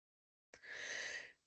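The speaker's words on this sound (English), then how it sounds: "I have to sneeze." A single sneeze bursts in abruptly after a moment of silence, close and loud, with a sharp onset and a breathy, sustained hiss that trails off over about a second.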